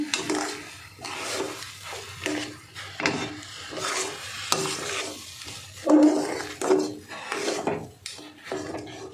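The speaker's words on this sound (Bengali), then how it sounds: "দেখুন এইভাবে নেড়ে নেড়ে সুন্দর একটা ডো তৈরি করতে হবে।" Thick dough of flattened rice being stirred and scraped in a pan over medium heat, with repeated rasping, rubbing strokes in a steady rhythm and a faint sizzle underneath, close and fairly loud.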